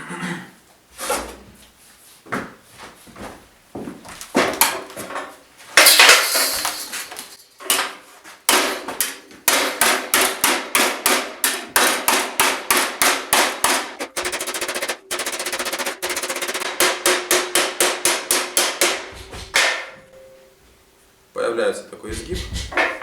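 A hammer forging a metal bracer plate, loud sharp metallic strikes in rapid regular bursts with brief pauses between runs, with a voice speaking between the blows.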